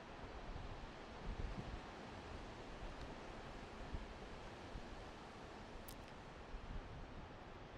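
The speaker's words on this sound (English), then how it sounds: "You'll be getting a lot of wind noise and wave noise." Strong wind buffeting the microphone over waves breaking on the shore, a continuous low rumbling roar with gusty surges and no voices.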